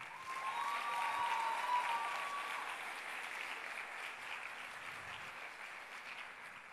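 An audience claps together at a film premiere, a dense sustained wash of applause that holds steady for several seconds and slowly thins, with a faint whistle-like tone early on.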